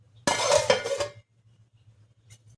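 A pot of chicken korma gets its lid set on with a short burst of metallic clattering and clinking up close, then the kitchen falls quiet apart from a low hum.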